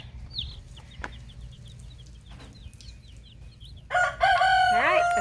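Chickens cheep and cluck quietly in a series of short calls, then a rooster crows loudly nearby near the end.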